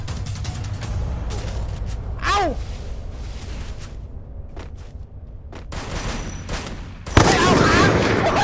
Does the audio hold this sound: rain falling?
no